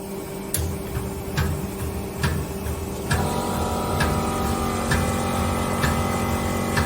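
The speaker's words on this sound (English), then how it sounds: "Next, start the high pressure pump." A high pressure pump runs on a valve strainer test bench, a steady mechanical hum with regular ticking clicks roughly every second, stepping up in level partway through, with no talk.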